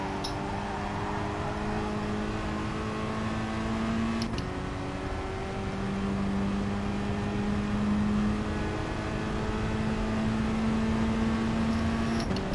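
Steady engine drone from a car in a racing game, a held whine that shifts pitch briefly around the middle, continuous and fairly loud with no talking.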